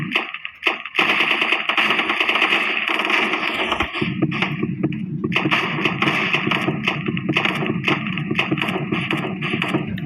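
Sustained rapid machine gun fire in a video game, dense continuous bursts lasting nearly the whole stretch, loud and close, with only a brief gap near the start.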